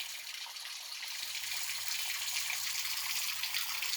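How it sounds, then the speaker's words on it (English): Water gushes steadily out of a basement boiler, a constant loud hiss and rush of flow that holds with little change throughout, with no voices. "this water is still coming out strong"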